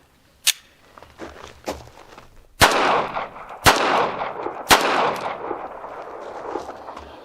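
Pocket pistol firing brass-cased ammunition outdoors, several sharp loud reports spaced about a second apart with ringing decay, plus lighter handling clicks between shots, no talking.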